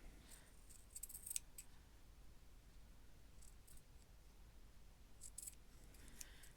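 Scissors trim the frayed top edge of fabric in a few quiet, close snips spread across the stretch, against a faint hiss with no talk.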